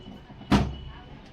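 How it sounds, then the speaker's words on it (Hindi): Refrigerator door shut once with a single close, muffled thud, followed by quiet room background. "दरवाजे को लगाना है"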